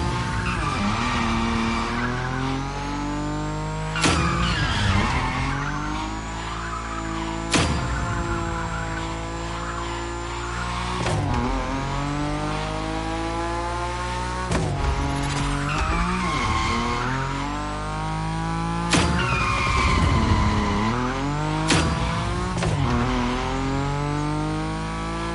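Nissan Nismo sliding at high speed in The Crew Motorfest, a sustained engine drone with long squealing tire skids rising and falling in repeated waves, loud and close throughout.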